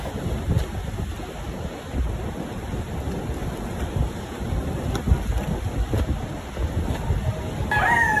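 Strong surf at a beach under rough, choppy seas, a continuous broad roar of crashing waves mixed with wind buffeting the microphone, steady and loud for the whole stretch with a few heavier swells.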